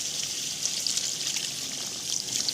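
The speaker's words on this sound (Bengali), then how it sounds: "এবার আমি জল দিয়ে দেব।" Water poured into a simmering curry of hilsa fish and taro, a steady close splashing trickle lasting a few seconds.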